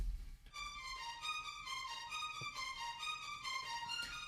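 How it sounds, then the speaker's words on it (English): Measured tremolo strings in an orchestral pop arrangement play a rapid, even 16th-note pulse on sustained chords, bright and clear, with a few soft percussive hits underneath. "Something else I put in are these measured tremolos in the strings."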